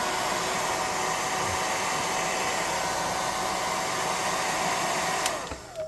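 A heat tool blows hot air steadily onto a painted skeleton model for a tabletop game, a loud continuous whooshing drone that holds for several seconds before tapering off near the end.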